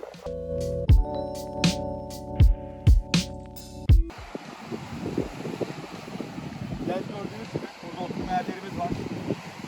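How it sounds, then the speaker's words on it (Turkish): Steady wind rushing across the microphone with a low rumble at a beach in Kilyos, Istanbul, following a few seconds of plucked music notes at the start. "Şu anda belki rüzgar sesini duyuyorsunuzdur."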